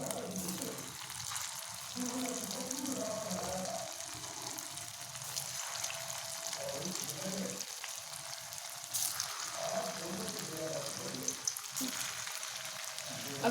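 Vegetable Manchurian balls deep frying in hot oil, a steady, dense bubbling sizzle that carries on unbroken and fairly close throughout.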